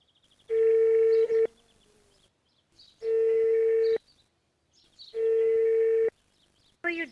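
A telephone call rings out on the line: three long, evenly spaced ringback tones with silent gaps between them, clear and steady, with no voices.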